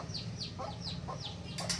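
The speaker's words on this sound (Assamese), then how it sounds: "এইয়া মুৰ্গী" A chicken clucking nearby in a rural home setting, a run of short rhythmic clucks over a low background hum, ending with a brief rustle.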